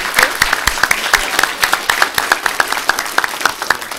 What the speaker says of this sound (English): So if you'll join me with a warm round of applause for Barbara Hill.